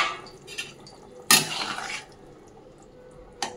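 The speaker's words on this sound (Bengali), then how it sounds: "ঢাকনাটা তুলে দেখে নেবো সব সবজি সেদ্ধ হয়েছে কিনা।" The metal lid comes off a cooking pot of simmering vegetables, a sharp clank and scrape close by, followed by quiet bubbling and another light metallic tap.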